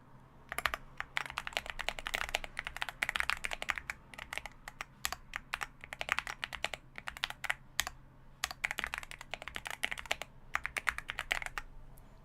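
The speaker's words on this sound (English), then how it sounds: "This keyboard is a really nice sounding keyboard." Typing on a mechanical keyboard, close and fairly quiet, with rapid clacky keystrokes in bursts separated by brief pauses.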